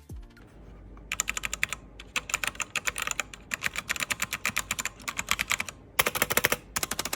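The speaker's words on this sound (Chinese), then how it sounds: "然后我们来听一下这个轴打字的声音啊" Rapid bursts of typing on a cheap 61-key mechanical keyboard, close and crisp, with short pauses between runs of sharp clacking keystrokes and no talking.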